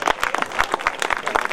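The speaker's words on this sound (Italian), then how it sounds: "grande applauso." Applause from an audience at an Italian Notte Bianca folk and brass music event, loud close claps in an uneven, lively rhythm for a brief moment.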